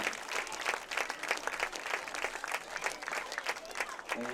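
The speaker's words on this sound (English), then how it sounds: "let's have a round of applause for our homecoming queen, Tracy Linval, and everybody who participated on the Homecoming Court 2017" Stadium crowd applauding the homecoming queen and court at a high school varsity football game: dense, even clapping heard faint and distant for a few seconds.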